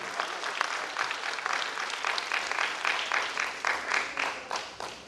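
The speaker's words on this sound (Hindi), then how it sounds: "मैं चाहूंगा हमारे इन कलाकारों के पास जोरदार तालियों से आप नवाजने का कष्ट करें" Audience applause for stage performers at a show, dense continuous clapping from a sizeable crowd holding steady for several seconds with a slight rhythmic swell toward the end.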